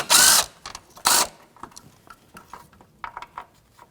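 A 13mm socket wrench loosening a bolt on the firewall of a 2007-2017 Jeep Patriot 2.4L: two loud, quick ratcheting bursts close by, then a scatter of faint clicks and taps.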